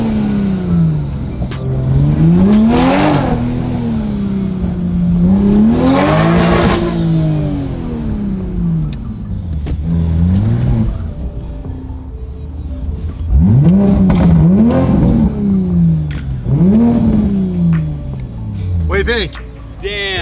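A 2020 Toyota Supra engine, running through its downpipe with no exhaust fitted, revs repeatedly in loud rising and falling swells, with short pauses between pulls and people talking close by in between.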